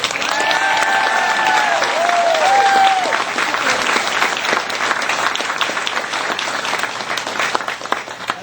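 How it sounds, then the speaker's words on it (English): A graduation audience claps at length in a round of applause for an honoree, a dense, sustained clatter with a few whoops and cheers rising early on before the clapping slowly thins out. "So give her a round of applause."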